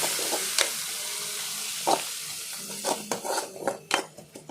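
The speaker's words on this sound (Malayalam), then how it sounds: "അരിഞ്ഞ മല്ലിയില നല്ലപോലെ മിക്സ് ചെയ്ത് കൊടുക്കുക" Spoon stirring vegetable kurma with chopped coriander leaves in a pan, with a steady sizzle under a string of scraping strokes that quicken toward the end, close and clear with no talking.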